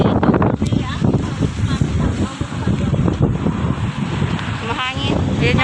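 Strong wind buffets the microphone outdoors beside a Holiday Inn hotel, a steady roaring rumble with gusty swells throughout, and faint voices mixed in.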